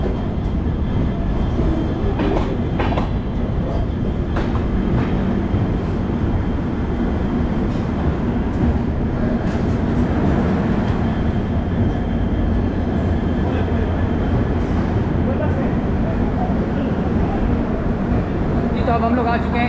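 Inside the North East Express passenger train in India, a steady rumbling roar of the moving coaches carries on throughout, loud and continuous, with voices talking over it.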